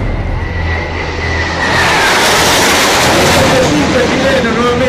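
A Chilean Air Force F-5 jet roars loudly overhead in a sustained, rising engine rush, with someone talking over the noise.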